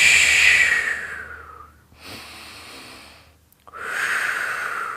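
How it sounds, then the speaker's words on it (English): Long, deep yoga breaths: a slow airy exhale fades out, then a softer breath follows, then a strong new inhale rushes in near the microphone, with no talking. "I'm breathing nice, long, smooth, deep breaths, keeping those elbows wide."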